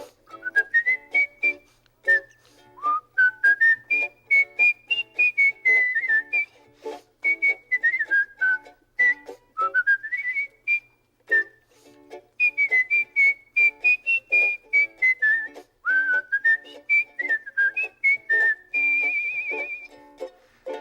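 Someone whistles a cheerful, bouncy tune alone, with quick rising and falling phrases that continue steadily throughout.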